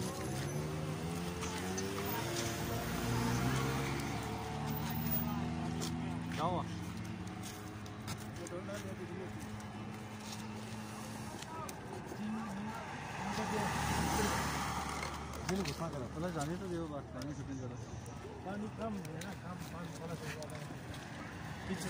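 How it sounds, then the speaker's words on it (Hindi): A vehicle approaching from behind rumbles continuously, its engine drone swelling and fading under someone talking throughout, with some wind-like hiss. "एक साइड से पीछे गाड़ी आ रही है"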